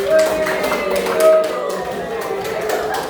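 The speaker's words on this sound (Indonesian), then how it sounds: "Tepuk tangan dong untuk kelompok." Students in a mathematics classroom clap for a classmate group, a brief scattered burst of handclaps that starts at once, mixed with voices and fading toward the end.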